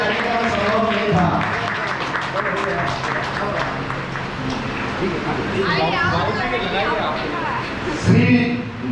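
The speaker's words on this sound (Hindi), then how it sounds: "इन लोगों का तो जोरदार तालियों से स्वागत कीजिए।" Loud applause from an audience welcoming people at an event at the Gayatri Shakti Pith, with a crowd murmuring and speech-like voices mixed through the sustained clapping.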